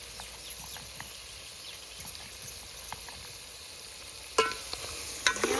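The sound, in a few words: masala paste being sautéed in a pan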